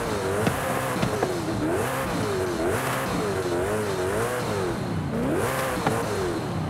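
Koenigsegg Jesko engine in Forza Horizon 5 held on launch control, its revs rising and falling in repeated wavering surges with a raspy, steady roar, close and loud with no talking.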